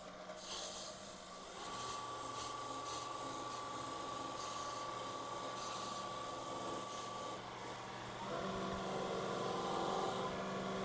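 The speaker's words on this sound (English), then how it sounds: "then we'll turn the lathe on and buff it in" A lathe hums steadily while Yorkshire Grit abrasive paste is buffed into a wood finish, with a continuous motor drone and a rough rubbing texture that grows slightly louder near the end.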